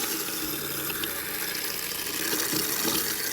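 Antifreeze running from a camper faucet during winterizing, a steady gushing flow into a sink that stays near and even throughout.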